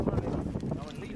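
Wind buffets the microphone in Romania, a steady low rumble and roar that continues throughout with no pauses.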